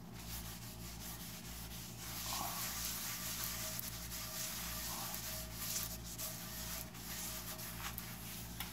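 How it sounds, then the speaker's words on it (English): A cloth rag rubs and wipes across a cast iron pan, a continuous quiet scrubbing with small surges in strokes, close up with no talking. "I'm going to get done wiping all this off of here"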